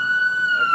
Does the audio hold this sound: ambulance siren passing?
yes